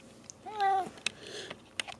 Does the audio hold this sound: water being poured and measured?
no